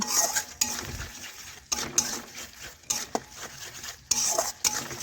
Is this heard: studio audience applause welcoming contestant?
no